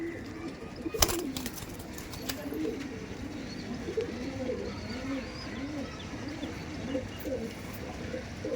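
Pigeons bred in a Howrah loft coo repeatedly in a low, rolling rhythm close by, with a sharp knock near the start and faint background noise.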